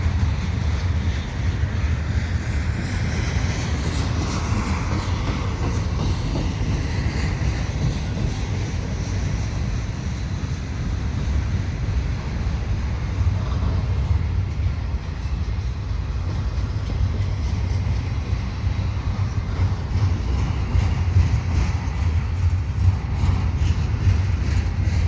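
A CN double-stack freight train rolls slowly past in St Henri, a continuous low rumble and rattling of cars at steady volume for the whole stretch, with some wind buffeting the microphone and no voices.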